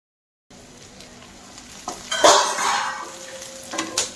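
After a moment of quiet, spices tempering in oil sizzle up sharply and then settle into a steady hiss, with a few light clinks of a utensil against the pot.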